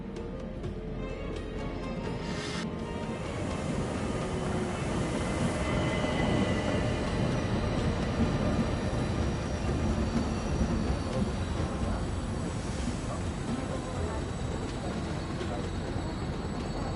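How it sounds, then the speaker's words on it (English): A steam-era luxury train runs along the rails in a PS5 Agatha Christie Orient Express game, giving a continuous rumbling roll of wheels and carriage noise with faint squeals and hiss, steady and fairly close throughout. "His train is a beautiful machine."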